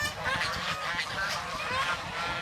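Domestic geese, a village flock kept free-ranging, honk repeatedly in a busy overlapping chorus, fairly close, with a voice faintly mixed in.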